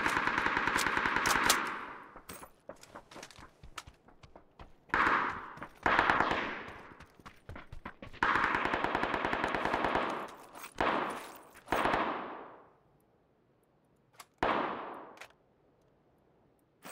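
A suppressed Thompson submachine gun fires in a video game, in repeated rapid bursts of roughly a second or two each, separated by short pauses and quieter echoing tails, loud and close with no talking.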